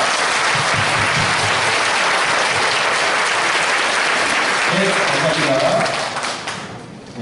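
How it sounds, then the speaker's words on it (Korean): A large church audience at a Christian praise mission contest applauds the pastor and members, loud and dense clapping that holds steady and then fades out near the end. "우리 다 함께 은석교회 김종성 목사님과 성도님들에게 감사의 박수를 보내도록 하겠습니다."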